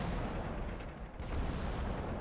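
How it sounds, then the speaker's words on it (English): Tank guns firing in a World of Tanks battle as a group of Panzer III tanks open up nearby: a dense, continuous roar of cannon fire and explosions that stays loud throughout, briefly dipping partway before surging again. "As a bunch of Panzer III start shooting around us."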